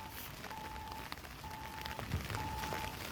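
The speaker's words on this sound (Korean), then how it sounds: "비가 오는 건 알겠는데" Steady rain patters on surfaces near a train station, a dense hiss with scattered drops, while a faint tone repeats in the background.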